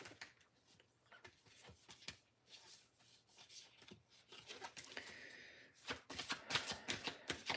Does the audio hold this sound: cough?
no